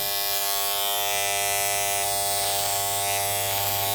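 Electric hair clippers buzz steadily and loudly throughout, a constant motorized hum with faint shifts as the blades move through hair.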